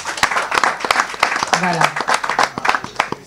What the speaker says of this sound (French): On applaudit quand même son éditrice.